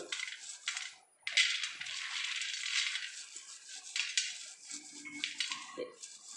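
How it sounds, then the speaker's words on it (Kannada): Peanuts are rubbed between the hands to strip off their skins, giving a close, busy rustling and crackling with light rattling clicks throughout, plus a faint low voice near the end. "ನಾವು ಶೇಂಗಾ ಬೀಜದ ಸಿಪ್ಪೆಯನ್ನು ತೆಗೆಯುವ"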